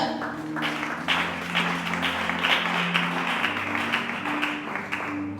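A church congregation breaks into steady applause acclaiming the Lord, a dense wash of clapping over sustained organ or keyboard tones.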